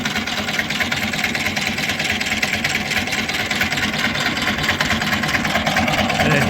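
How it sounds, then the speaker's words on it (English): A pond weed cutter with reciprocating cutter blades runs steadily at a set speed, giving a constant, fairly loud engine-like drone with a busy broadband hum and no pauses. "So we turn it on, set the speed, it stays on, and then you can see the sort of a speed at where it reciprocates."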